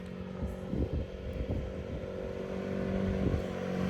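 A motorbike approaches and passes on a road, its engine rising to a steady moderate drone that swells toward the end.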